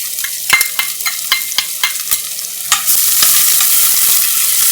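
Onions and shallots hit a hot pan for urad daal (black lentil daal): a run of close stirring scrapes and taps, then a loud, steady, broad sizzle takes over without any talk.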